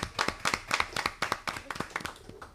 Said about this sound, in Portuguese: Uma salva de palmas para a colega também.